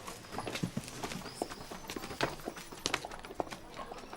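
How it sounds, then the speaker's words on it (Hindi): Hooves of a horse pulling a carriage clip-clop in an uneven, continuous patter, moderately close, with faint background noise and no clear speech. "वो देखो घोड़ा गाड़ी कितना सुंदर है।"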